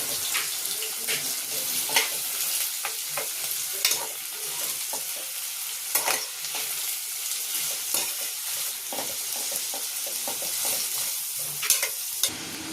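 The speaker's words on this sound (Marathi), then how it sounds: "आता आपण तेल तापलंय, तेलामध्ये कांदा परतवून घ्यायचा।" Onions frying in hot oil for a soya biryani crackle with a constant bright sizzle, close by, punctuated by irregular scraping and stirring strokes of a spatula in the pan.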